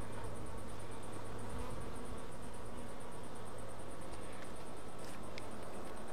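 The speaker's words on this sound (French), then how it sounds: "on a pas mal d'abeilles sur un cadre de couvain" Honeybees crowd a brood frame in a young colony, their wings making a steady, soft buzzing drone that runs through the whole stretch. The insect hum is faint and continuous, with no talking.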